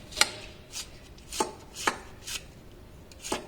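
Knife chopping okra into small pieces on a cutting board, about six distinct sharp chops spaced irregularly, close and clear with no talk.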